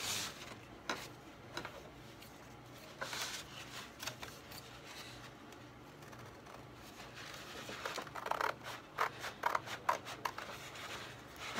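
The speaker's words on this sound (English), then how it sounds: "And I do think I'll cut that off." Scissors cut through paper for a tri-fold journal cover, a series of close, soft snips and rustling paper crinkles continuing for several seconds at moderate volume.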